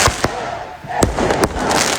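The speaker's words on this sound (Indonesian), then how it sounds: "massa unjuk rasa menyerang kedutaan besar Israel di Yunani dengan kembang api" Fireworks fired by protesters at the Israeli embassy in Athens, heard as several sharp bangs and cracks spaced unevenly over a busy crowd noise.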